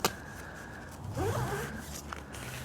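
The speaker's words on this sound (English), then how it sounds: "Yeah, I'd forgot to zip that back up." Zipper on a £17 Temu hot tent being zipped closed outdoors, a close, sharp ripping pull lasting about a second after a brief tug.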